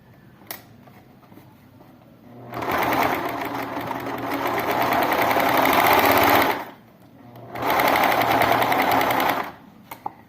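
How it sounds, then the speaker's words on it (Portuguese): A sewing machine stitches pink fabric for a toy pig, running loud and close in two long bursts with a short pause between, no talking over it. "já arrematou aquele pedaço que a gente tinha costurado primeiro, tá?"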